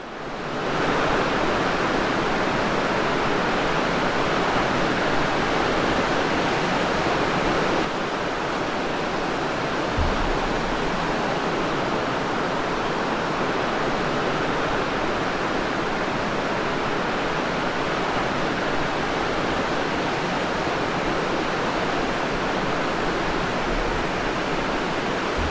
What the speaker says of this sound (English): The observation point provides a great spot to view the beach and to watch the waves rolling in from the ocean.